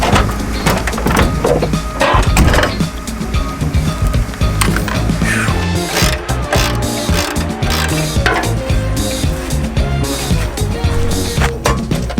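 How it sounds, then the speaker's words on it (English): Ratchet clicking steadily as a bolt is worked loose on a Nissan 240SX Silvia during fender and camber work, a busy, close mechanical ratcheting that runs throughout with metallic gear chatter. "When a bolt comes loose like that, it's like coming out, but you can tell like there's resistance."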